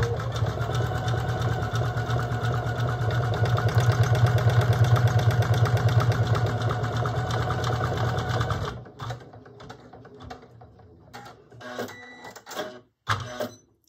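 An embroidery machine stitches a toy's body onto its head in the hoop, giving a fast, steady, mechanical clatter that runs for several seconds, then stops and is followed by quieter handling noises and sparse clicks.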